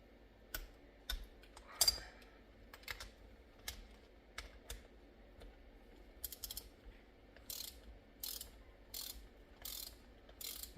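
A torque wrench set to 200 inch-pounds tightens bolts on a Peerless 820 transaxle, its ratchet clicking in quick, sharp bursts separated by short pauses, close up in a quiet space.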